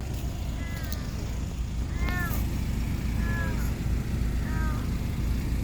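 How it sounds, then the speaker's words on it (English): A cat trapped inside a parked car's hood meows four times, thin and plaintive, spaced a second or so apart over a steady low rumble of background noise. "there's meowing coming from the hood of that car that's parked next to my friend's"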